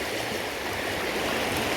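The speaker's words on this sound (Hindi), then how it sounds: "और पानी देखिए दोस्तों काफ़ी तेज़ है।" Fast-flowing flood water surges past a village school after a flood, giving a constant, dense rushing roar like a strong stream, steady and fairly loud with no talk.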